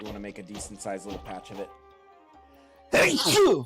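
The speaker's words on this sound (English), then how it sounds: "Oh, holy sneezes." A single sharp sneeze bursts out after a stretch of casual talk and a quiet pause, loud and close to the microphone.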